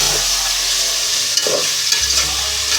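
Garlic frying in a pan for chicken nihari, with a steady close sizzle and occasional stirring scrapes, loud and continuous with no voices.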